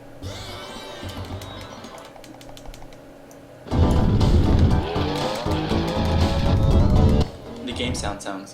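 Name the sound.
car engines and tire skids from the video game Diddy Kong Racing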